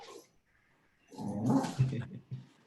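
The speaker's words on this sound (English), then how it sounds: "the dog is really not happy about the lack of it" An unhappy dog whimpering, then letting out a short burst of barks and yips close by, faint and brief in a quiet room.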